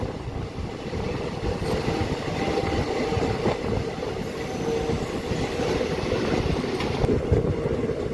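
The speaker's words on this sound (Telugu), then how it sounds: "ఏదో ట్రైన్ అయితే వస్తుంది ఏ ట్రైన్ ఇది" An express train rumbles past close by with a steady roar, rattling wheels and faint squeals, continuous for the whole stretch.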